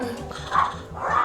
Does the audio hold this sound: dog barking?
yes